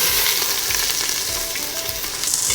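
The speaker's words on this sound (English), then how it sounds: "Now that the oil is hot, let's put our onions and garlic." Onions and garlic sautéing in hot oil, a dense, continuous loud sizzle and crackle close up, steady throughout with faint stirring underneath and no speech.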